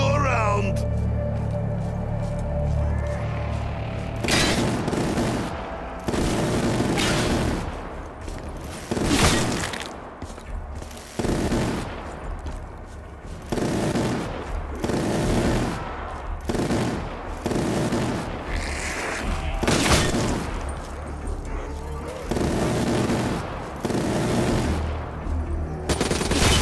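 Gunfire from the video game Call of Duty Black Ops III, fired at Hellpigs: loud, rapid automatic bursts repeating in quick succession across the whole stretch, with a brief lull between volleys and other game sounds mixed in.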